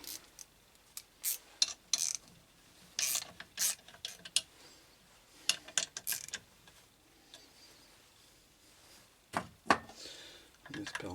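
Threaded part being screwed into a BMW K motorcycle water pump during reconditioning, heard as scattered sharp metallic clicks and ratcheting bursts, close and fairly loud, with quiet gaps between.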